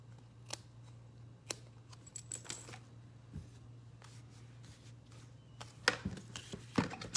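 Paper card edges are trimmed, giving a quiet run of scattered crisp snips and light paper rustles at close range. A faint steady hum sits underneath. Louder clustered cuts come near the end.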